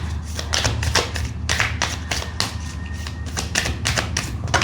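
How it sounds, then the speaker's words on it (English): Tarot cards being shuffled by hand make a rapid series of crisp slaps and riffles in a quick, uneven rhythm, close and fairly loud, with no talk. "So let's just continue shuffling."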